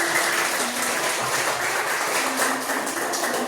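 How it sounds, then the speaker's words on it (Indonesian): Dense, sustained audience applause from a crowd at a religious talk, a steady wash of many hands clapping at once, fairly close and loud throughout with no speech over it. "Tepuk tangannya buat saya."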